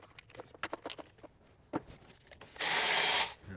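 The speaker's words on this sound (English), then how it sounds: "Whenever you get a nut stuck on a magnetic socket, just find a stud and just tighten it on it," A nut stuck on a magnetic socket is worked loose by threading it onto a stud during a furnace no-heat repair. Several short metallic clicks and taps come first, then a brief, loud burst of a power driver whirring.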